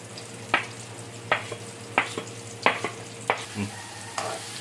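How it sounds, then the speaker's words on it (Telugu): Chopped onion and green chillies fry in hot oil for a paneer green peas curry, a continuous sizzle punctuated by six or seven sharp rhythmic stirring scrapes against the pan. "ఆయిల్ హీట్ అయిన తర్వాత అయితే ముందుగా కట్ చేసి పెట్టుకున్న ఆనియన్ అండ్ మిర్చి అయితే వేసుకుంటున్నానండి"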